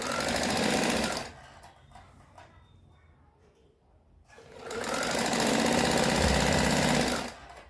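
Sewing machine stitching strips for a kurti runs in two loud, fast, rattling bursts separated by a few seconds of quiet handling, close and steady.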